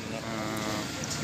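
Sheep bleat at the Uchkun livestock market, a loud, close, wavering cry that fills the brief moment against a noisy crowd background.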